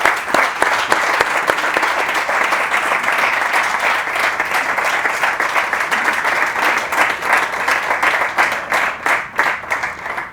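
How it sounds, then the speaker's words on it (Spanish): Loud sustained applause from an audience for panel speakers at a sustainable finance forum, dense clapping continuing evenly throughout. "Un aplauso a nuestros ponentes."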